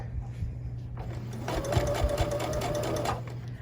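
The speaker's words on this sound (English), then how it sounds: "So here's my little scrap of fabric that I'm going to sew across." A sewing machine stitching across a small scrap of fabric for a bow tie quilt block: a steady, fast mechanical whir with a rhythmic needle patter running for about two seconds, close and clear over low background hum.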